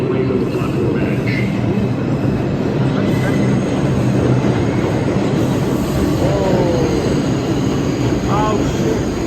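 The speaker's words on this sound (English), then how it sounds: "The next train to arrive on the Queensbound Express track is not in service." A subway train arrives at a Manhattan station with a loud, continuous rumble of wheels on rails and brief high squeals near the end, while a platform announcement and voices carry over the noise.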